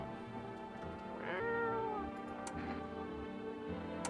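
A cat in a video game meows in a drawn-out tone over a steady humming background, with faint clicks around it.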